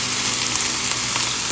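Soy sauce hits a hot pan and sizzles in a constant, close, hissing crackle with no break for the whole moment.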